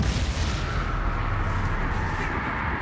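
Fiery blasts from the Confringo exploding spell in Hogwarts Legacy, a dense rumbling roar of overlapping booms that stays loud and continuous throughout, with no speech.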